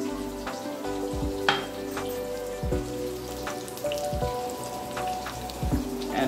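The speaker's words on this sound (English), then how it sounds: "So now I'll just fry off these nuts." Nuts and watermelon seeds frying in a pan for a cauliflower korma, a light crackling sizzle with scattered pops and drips, with low tonal hum and a few soft knocks underneath.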